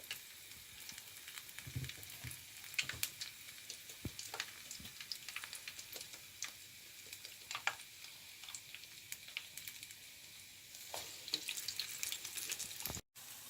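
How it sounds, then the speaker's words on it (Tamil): Spinach vada frying in hot oil, a soft continuous sizzle and crackle with scattered small pops, quiet and close, carrying on steadily with no talking. "கீரை வடை பொரிந்து கொண்டு இருக்குது"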